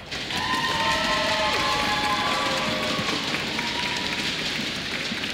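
A live esports crowd at the HGC 2018 Mid-Season Brawl playoffs cheers and applauds for Heroeshearth, a steady loud wash of clapping and voices with a few shouts, sustained throughout and tapering slightly at the end.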